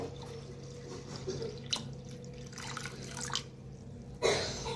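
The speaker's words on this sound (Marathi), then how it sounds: "आता पाणी ओतूया" Water is poured in short, splashy bursts, with drips and a louder splash toward the end, close by and without talking.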